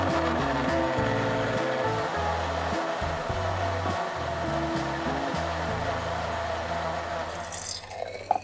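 A blender grinds tomatoes into juice with a loud, steady motor whir and churning that runs unbroken for about eight seconds, then briefly stutters at the very end.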